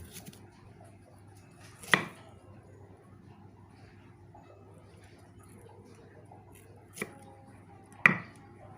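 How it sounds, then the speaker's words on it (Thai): A kitchen knife chops mild banana peppers on a cutting board for a liver stir-fry: three sharp, isolated strikes spread over several seconds against a quiet room hum. "หั่นแบบนี้"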